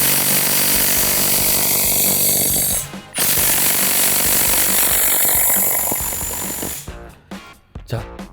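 A Milwaukee M18 cordless impact wrench hammers at a tightly seized 22 mm nut, giving a loud continuous rapid rattling burst with a brief break, then stuttering shorter bursts as the trigger is released and squeezed again.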